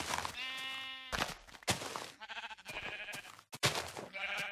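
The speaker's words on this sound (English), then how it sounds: "this is a grey sheep" Repeated bleating of a grey sheep in the Minecraft video game, several loud, close harmonic calls following one another with brief gaps.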